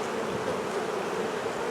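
Honey bees buzzing around the combs of a top-bar hive, a dense, steady, close drone with no talk.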